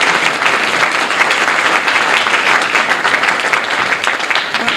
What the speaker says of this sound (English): Let's give a round of applause to the Country Club for all their hard work.